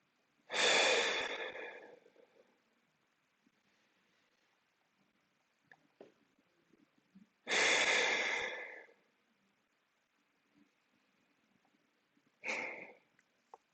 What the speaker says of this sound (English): And I'm still trying to take really big breaths in.